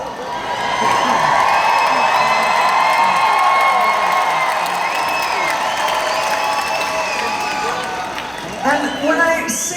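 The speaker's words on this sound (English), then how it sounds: "when I say my age, people always clap" A live audience bursts into sustained applause and cheering, with whoops and shouts carrying on steadily for most of the stretch before tapering off near the end.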